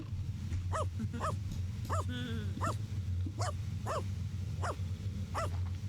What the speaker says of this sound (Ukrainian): Ну от ти якого тут гавкаєш?